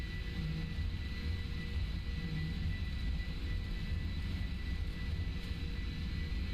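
A PMDG 747-400 in the Prepar3D flight simulator rolls for takeoff, its jet engines giving a steady, dense, loud roar with low rumble throughout and no talking.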